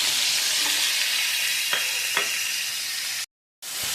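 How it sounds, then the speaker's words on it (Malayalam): Shallots and curry leaves with salt sauté in oil in a pan, giving a steady, even sizzle with a few faint stirring clinks. A brief gap of silence comes near the end. "നമ്മൾ ഉപ്പും കരിയാപ്പിലയും കൂടി ഇട്ട് ആണ് ഇത് വഴറ്റുന്നത്"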